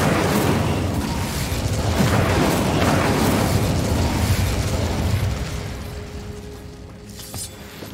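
An Incendio fire spell is cast in Hogwarts Legacy, a loud sustained roaring, crackling burst with booming impacts that fades out toward the end.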